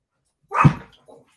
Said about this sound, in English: I have the dogs barking.